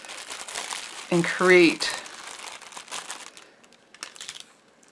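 A plastic Stampin' Up! pumpkin treat bag filled with popcorn crinkles and rustles as it is folded over and taped down, with a louder burst of crinkling in the middle and a brief spoken phrase.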